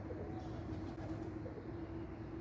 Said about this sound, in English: the bandit birds are still there